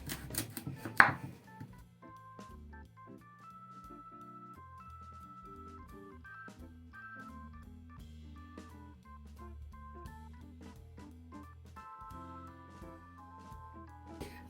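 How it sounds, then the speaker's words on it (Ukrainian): A knife chops pumpkin steadily against a board, repeated sharp taps at an uneven rhythm, close by, with a soft musical background underneath. "І для початку нарізаю на невеликі шматочки гарбуз."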